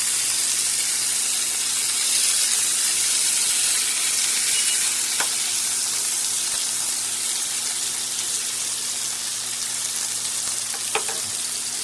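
Butter and oil sizzle steadily around a London broil steak in a hot pan, a dense, continuous frying hiss with a couple of brief crackles and pops near the end.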